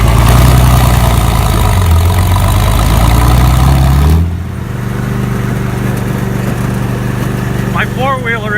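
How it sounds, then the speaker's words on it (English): A riding lawn mower's engine runs loud and close with a steady low drone, then drops abruptly to a quieter, smoother hum partway through, while a faint bird call comes in near the end. "so I'm going for a ride on the lawnmower."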